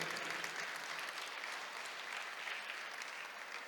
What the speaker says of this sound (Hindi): इसलिए जोरदार तालियां बजनी चाहिए